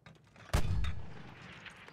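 A mortar round fires in the Battlefield 1 video game with a single sharp, loud boom that rolls off into a fading rumble, set against faint background game ambience.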